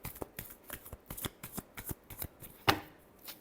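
Tarot cards being shuffled during a reading: a quick run of crisp, evenly spaced card slaps and riffles, close and clear, ending in one sharper snap.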